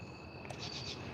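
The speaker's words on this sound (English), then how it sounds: "You guys can hear the crickets in the background." Steady high-pitched insect trilling, like crickets chirping, with pulsing bursts near the end over a quiet low background hum.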